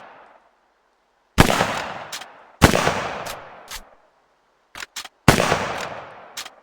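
Gunfire in a video game: three heavy shots with long reverberant tails, spaced about a second apart, plus a quick pair of short clicks, loud and close with no voices.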